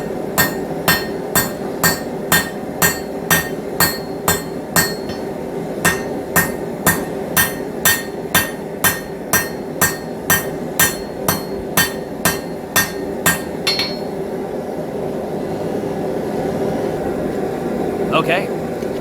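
Hammer blows forge welding a Damascus billet for a Scottish dirk, sharp ringing strikes in a steady even rhythm, around thirty in a row, then stopping while a forge roars on in the background under occasional talk.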